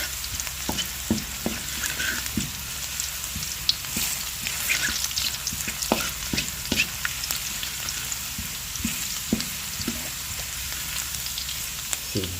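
Garlic sautéing in a hot pan, heard as a continuous close sizzle with sporadic pops and light stirring clatter throughout, with no voices.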